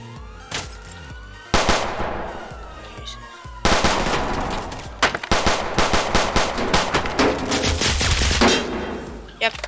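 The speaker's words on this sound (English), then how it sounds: "Oh, so much shots fired." Dense gunfire in the Roblox game Victor Valley during a military police crate run, with rapid automatic bursts and single shots crackling close and loud almost throughout, siren-like tones underneath and brief pauses between volleys.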